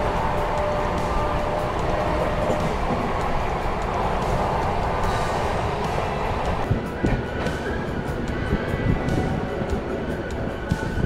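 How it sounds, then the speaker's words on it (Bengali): The 12895 Shalimar Puri Superfast Express runs on after pulling out of Kharagpur, giving a steady, continuous rumble of wheels and carriages that holds at an even level throughout. "তো ট্রেন কিন্তু খড়গপুর স্টেশন ছেড়ে দিল।"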